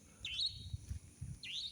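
Two faint, brief chirping bird calls sound over a low ambient rumble on a dark, deserted street at night.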